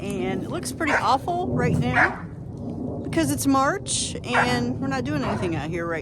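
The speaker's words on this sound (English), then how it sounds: "You can hear my dogs barking back there." A dog barks and yips a few times at a distance behind someone talking steadily up close.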